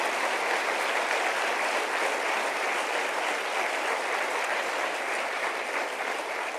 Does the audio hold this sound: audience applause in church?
yes